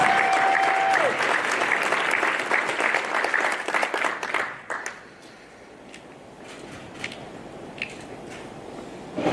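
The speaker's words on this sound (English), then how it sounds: "If we can give them a round of applause." A school audience claps for elementary site teachers of the year at a teacher-of-the-year ceremony, loud and full for about five seconds before thinning to a few scattered claps and quiet room noise.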